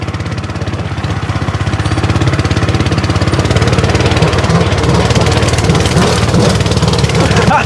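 A homemade mini tractor's small engine chugs loudly and steadily up close as it pushes through brush, with a rapid rough throbbing rhythm and some rustling and knocking on top.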